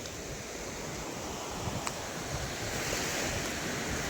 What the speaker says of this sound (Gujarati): હવે આ મોજું આવે અને આવે તો ભલે.